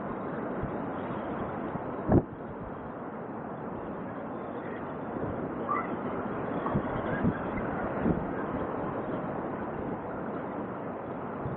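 Constant wind buffets the microphone in a dull, steady rush for several seconds outdoors during a car oil change, with a couple of faint knocks and no speech.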